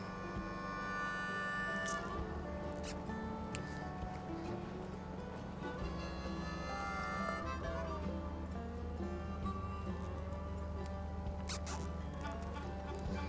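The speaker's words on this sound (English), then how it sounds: "I'm gonna take my zip ties and just start zipping the ends." Plastic zip ties ratchet shut around the ends of a firewood bundle in a series of short, close zipping bursts over steady background music.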